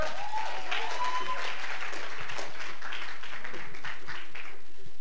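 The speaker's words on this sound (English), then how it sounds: "A round of applause." An audience applauds at a literary fair after award-winning poets are introduced, a dense spread of clapping from the crowd under a voice speaking over it, the whole fairly loud and steady.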